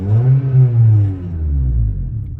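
A car engine revs up with a deep rumble that rises and then eases off, close and loud, with no talking.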